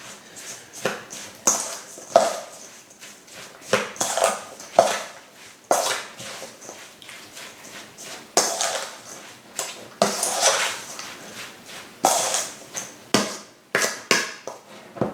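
Sugar being stirred into chopped apples in a bowl for a vegan apple strudel, a spoon scraping and clinking against the bowl in irregular strokes, close and moderately loud, with brief knocks and pauses between mixing motions.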